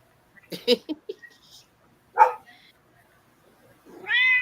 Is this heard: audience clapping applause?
no